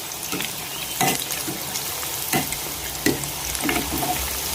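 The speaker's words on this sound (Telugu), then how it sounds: "దీన్ని మనం వేసిన వెంటనే కదపకూడదండి, కొంచెం ఫ్రై అయిన తర్వాత ఇంకో పక్కకు తిప్పుకుందాం" KFC-style crispy chicken lollipops frying in oil, a steady bubbling sizzle broken by several sharp crackling bursts and light knocks.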